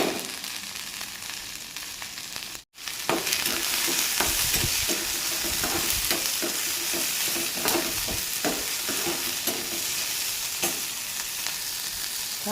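Finely chopped green chilies fry in a little oil in a pan, a loud continuous sizzle with frequent stirring scrapes after a brief silent break early on.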